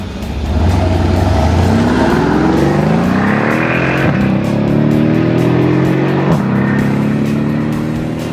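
A 2013 Mercedes-Benz SL63 AMG Roadster accelerates hard from a standstill, its loud, close engine roar climbing in pitch and dropping briefly at each gear change, then climbing again.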